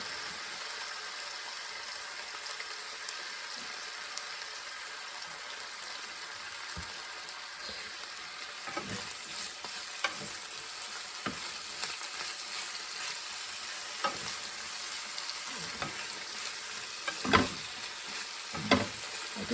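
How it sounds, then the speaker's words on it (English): A stir fry of peppers, okra and mushrooms sizzles steadily in a hot pan on a Rayburn stove, with a constant hiss broken by occasional scraping stirs and louder bursts near the end. "One of my favourite stir fries."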